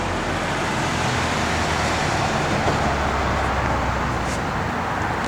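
A 1969 Pontiac Firebird convertible fitted with an early-to-mid-1970s Pontiac 400 V8 with a mild cam idles steadily at close range, a dense low rumble running continuously without talk.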